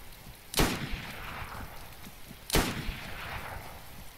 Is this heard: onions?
no